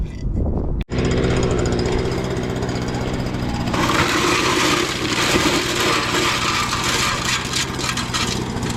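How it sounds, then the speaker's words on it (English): A leaf blower runs loud and steady close by at an outdoor metal-detecting hunt, cutting out for an instant near the start before roaring on, its pitch rising and growing harsher partway through. "I'll shut the leaf blower off"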